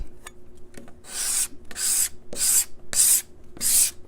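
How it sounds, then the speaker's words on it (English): A steel card scraper drawn across maple wood makes five evenly spaced, bright rasping strokes, each about half a second long, close up and with short quiet gaps between them. "There's nothing like scraping maple"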